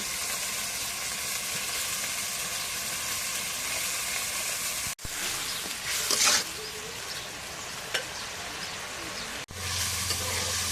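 Spice masala frying in a pan with turmeric water and salt makes a steady, dense sizzle that runs almost continuously, broken by a couple of brief dips and a few louder bursts of stirring.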